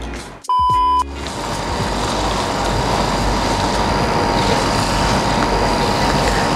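A milk frother whirs steadily through cold milk for an iced rose latte, a loud continuous hum that starts after a brief click and holds for several seconds.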